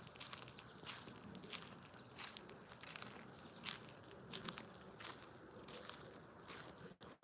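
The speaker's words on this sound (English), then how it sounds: "We have night bugs chirping." A dense, steady wash of night insects chirps outdoors, a constant high buzzing drone with faint rhythmic pulses, moderately quiet and unbroken.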